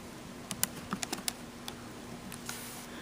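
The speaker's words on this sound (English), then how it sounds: "if I type in the square root of 12 on my calculator" A few quick taps on a calculator keypad entering a square root, short clicks clustered in the first half, then quiet room tone.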